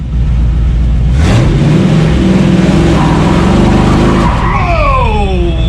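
A street-legal car fitted with a NASCAR locker revs hard, spinning both rear wheels with loud engine roar and tyre squeal that rises into a long screech toward the end.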